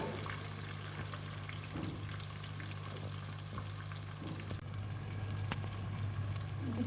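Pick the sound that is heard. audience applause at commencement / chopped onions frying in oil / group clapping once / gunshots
chopped onions frying in oil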